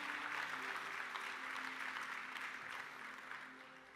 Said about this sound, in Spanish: Si le va a dar un aplauso al Señor,